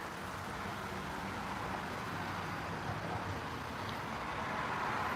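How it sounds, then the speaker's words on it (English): Traffic on a busy residential street heard from a front porch, a steady broadband roar of passing cars and heavier vehicles blending into a continuous distant wash with no distinct single pass-bys. "So that's my street. It's very busy. Cars all day."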